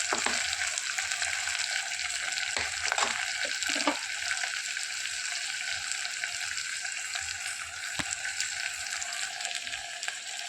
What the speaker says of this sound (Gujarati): પછી આપણે બધા શાકને આ રીતે હલાવી લેવાના છે।